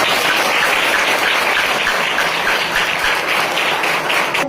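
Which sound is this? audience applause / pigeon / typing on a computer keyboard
audience applause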